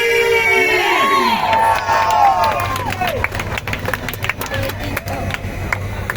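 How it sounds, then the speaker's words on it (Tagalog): Large outdoor prayer rally crowd cheering, shouting and clapping, with a loud wash of voices and whoops at first and then steady applause carrying through. "Palakpak naman for DJ Koki!"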